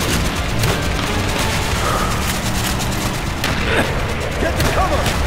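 Airstrike explosions and bursts of gunfire from the Call of Duty Black Ops battlefield, loud and continuous, with booms and crackling shots layered under radio chatter.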